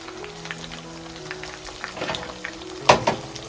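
Sarputi fish fry in a pan with a soft, continuous sizzle, rising into a few sharper spits and pops near the end, with no one talking.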